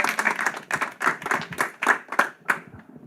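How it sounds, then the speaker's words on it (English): Audience at a fundraiser debate clapping, a sparse group giving distinct, uneven hand claps in bursts that thin out toward the end, fairly close and without talk. "A round of applause as well for Peter. And keep it going for Kate Merrick"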